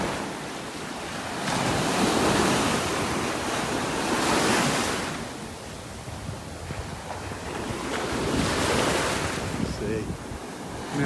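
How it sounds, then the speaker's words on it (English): Surf surging and breaking on a Gulf beach in North Naples, Florida, with two broad swells of rushing wash, loud and close, mixed with wind buffeting the microphone. "right where these waves are breaking"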